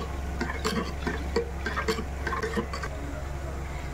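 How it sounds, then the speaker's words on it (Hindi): Water being poured and stirred into a pot of dhaba-style dal makhani, giving soft sloshing and spoon-against-pot clinks over a steady low hum, with a few sharper scraping knocks. "थोड़ा सा पानी ऐड करके अभी हम इसको ऊपर रखेंगे उबाल आने के लिए"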